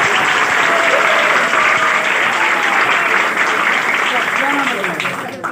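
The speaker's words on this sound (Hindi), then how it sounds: "ताली बजाओ।" Students in a classroom at a coaching center clap together, a dense, loud burst of applause sustained for several seconds before fading at the end.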